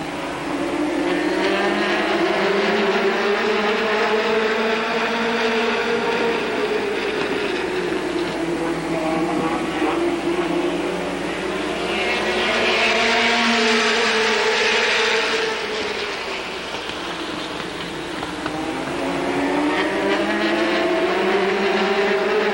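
Race cars in a 1985 ARTGO heat at Capital roar past continuously, a dense loud engine drone that swells and fades as the pack circles, with a strong burst around the middle as cars pass close.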